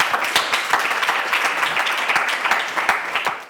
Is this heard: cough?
no